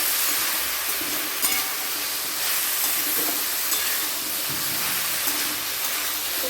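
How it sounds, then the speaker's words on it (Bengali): Salted cauliflower is stirred as it fries and releases water in a pan, producing a constant loud steamy hiss with faint scraping throughout. "আবারও আমি ঢাকনাটা খুলে কপিটাকে নেড়ে লবণটা দিয়েছি, তো তাদের দেখুন জল বেরিয়ে যাচ্ছে।"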